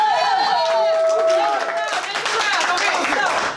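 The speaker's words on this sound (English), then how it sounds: "clap your hands if you've never been to an improv show." An improv show audience clapping and cheering together, a loud crowd applause swelling in the latter half, with a person's voice and whoops over the start.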